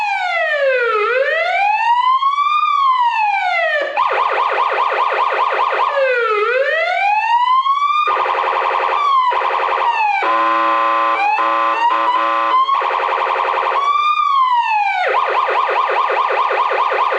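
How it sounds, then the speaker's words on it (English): A siren box mounted on a 1992 Chevy 4x4 blares a loud, continuous police siren, cycling through rising-and-falling wails, rapid yelps and hi-lo tones with no pauses. "we're just going to test these lights and the siren box and see what we have"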